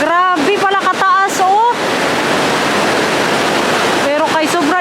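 A waterfall in Norway roars as a strong rushing current, a loud continuous wash of water, with someone speaking over it at the start and again near the end.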